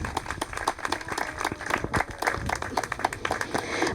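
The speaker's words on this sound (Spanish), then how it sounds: "Vamos a darle un aplauso al Señor." Audience applause during a Spanish-language Catholic sermon about Fátima, a steady wash of many hands clapping that keeps going without a break, with faint talk underneath.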